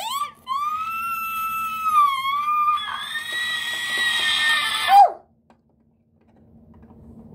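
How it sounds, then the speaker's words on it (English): A woman in labor screams in long, loud, wavering cries that rise and fall over about five seconds, then cut off to near silence. "What's all the screaming?"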